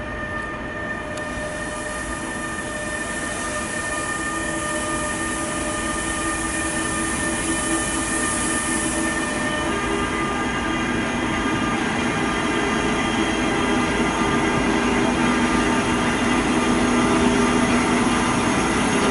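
A train rolls steadily through a station, wheels squealing with high metallic tones over a constant rumble that grows slightly louder.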